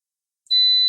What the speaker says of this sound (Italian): andiamo a premere il pulsante, sentiamo il beep